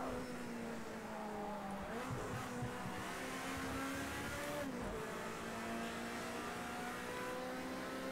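Race cars, a Mercedes and Nissans, roar through a racing video game, with engine whine shifting pitch through gear changes and short bursts of tire squeal, fairly quiet overall.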